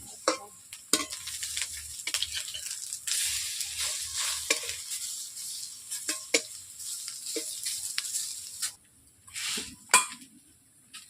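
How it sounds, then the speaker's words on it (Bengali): Cabbage and gram-flour fritters frying in hot oil, a steady close sizzle broken by scraping stirs and occasional clinks of a utensil against the pan, with no talking. "এইভাবে এক এক করে আমি বসিয়ে নিচ্ছি, এইভাবে ভেজে নিচ্ছি।"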